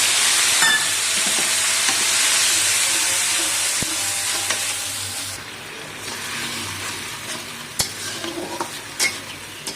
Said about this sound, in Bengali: পেঁয়াজটাও কষে নিচ্ছে